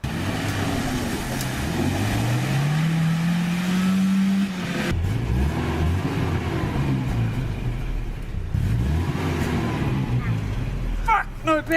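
A car engine with idle issues runs close by, its pitch rising and falling through several revs, the tone dipping and climbing again, with no talk over it.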